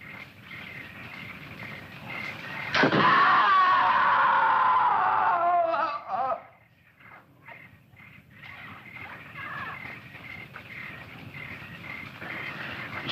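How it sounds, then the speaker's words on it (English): A loud, sustained human scream cries out in a jungle setting, rising suddenly and holding for about three seconds before breaking off, followed by quieter ambient noise and faint distant sounds. "I'm sure I heard a scream."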